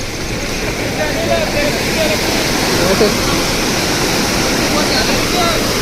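A stream swollen by the first monsoon rain rushes loudly and continuously, a dense roar of churning water close by with no breaks.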